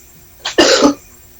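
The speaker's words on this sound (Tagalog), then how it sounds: "May umubo." A single close, loud cough, a short rasping burst followed by a stronger throaty hack, alone in a quiet room.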